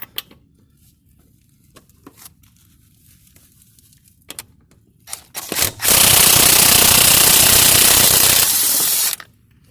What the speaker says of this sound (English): So first thing first, 19 mil to pull off the lug nuts.